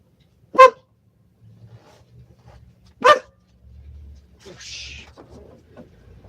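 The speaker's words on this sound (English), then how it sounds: "Oh, you're just a puppy." A puppy lets out two sharp, loud barks spaced a few seconds apart, close by, followed by softer rustling and a brief higher yip-like sound.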